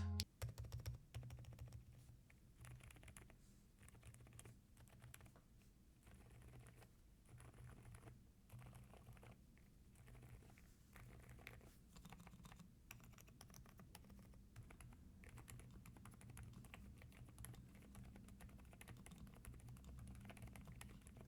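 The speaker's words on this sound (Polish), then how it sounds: "No, jest to klawiatura, która brzmi naprawdę dobrze. Cichutko, równo, bo jest przesmarowana również na stabilizatorach i dobrze." Typing on an MCHOSE UT98 mechanical keyboard with lubricated stabilizers: quiet, even, soft muted key clacks in a steady continuous patter, close and alone.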